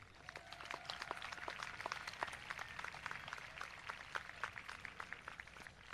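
An audience applauding at a high school graduation ceremony, a faint, distant, steady patter of many hands clapping with no talk.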